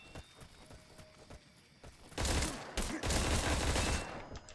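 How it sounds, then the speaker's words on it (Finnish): Bursts of automatic pistol fire in the Metal Gear Online video game, set in a jungle: a rapid, dense fusillade of shots in two clusters after quieter scattered clicks and thuds, moderately loud with no talk. "tämä on automaatti tämä pistoola"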